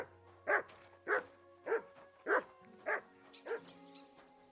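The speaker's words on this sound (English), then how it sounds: "He's barking." A dog barks six times in a steady, evenly spaced series, loud and fairly close, inside the medieval role-playing game Kingdom Come: Deliverance II, with quieter ambient game sounds behind the barks.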